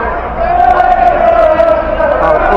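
Crowd in London on St George's Day booing police as officers run past, a sustained loud jeering roar of massed voices with shouts rising after a brief quieter start.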